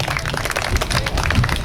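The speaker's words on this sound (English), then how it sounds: "So we're going to have the big round of applause" An outdoor crowd at a kids' fishing contest gives a round of applause, dense clapping with murmured voices and low rumble underneath.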